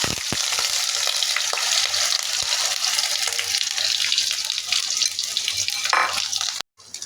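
Egg mixed with snails for a torta fries in hot oil, giving a loud, steady, close sizzle that hisses without a break before cutting off abruptly near the end.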